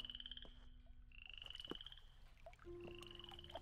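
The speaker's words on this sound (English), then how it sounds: "Stupid frog, no one likes you." A frog in the Barrow Hill video game croaks in a few drawn-out, sustained calls over a quiet night backdrop, faint and alone with no talk.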